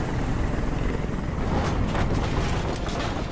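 A loud, steady helicopter rotor roar in the video game Detroit: Become Human fills the whole stretch, dense and continuous, with no voices over it.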